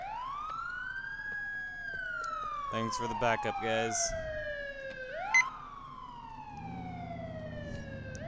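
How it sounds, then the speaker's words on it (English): Police car siren in GTA IV wailing loudly and continuously, sweeping up and down in pitch, with brief in-game speech and short bursts of other game sounds over it. "We need to turn off our siren."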